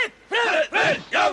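A group of young men training in a boxing-gym setting let out repeated loud shouted cheers, three strong bursts in quick succession with short pauses between them.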